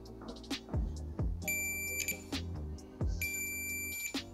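A continuity tester checking the tip, ring and sleeve of a homemade female XLR to male quarter-inch TRS adapter cable gives two sustained high electronic beeps, amid clicks and handling thumps of the probes.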